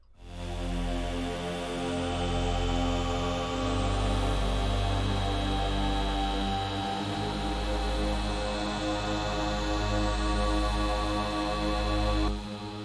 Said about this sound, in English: You just have 3 simple pad sounds here playing each a single note